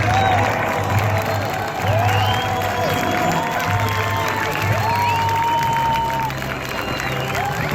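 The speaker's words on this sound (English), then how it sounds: "Another round of applause for the Black Daggers" Steady applause and cheering from a large crowd at the Sun 'n Fun night air show, with whistles rising above the clapping. The noise stays loud and continuous throughout.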